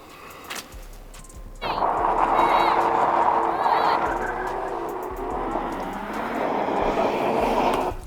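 Lamborghini Revuelto and Ferrari SF90 launch off the line in a drag race, a loud sustained roar of engines surging and holding steady, with some talk mixed in.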